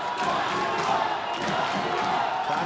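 Crowd at a bare knuckle fight in a boxing building, a steady roar of cheering and shouting fans, moderately loud and continuous, with a commentator's voice faintly mixed in.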